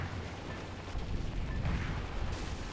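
Continuous gunfire in the video game Metal Wolf Chaos, a dense, rumbling barrage of shots and explosions filling the whole stretch with no pauses.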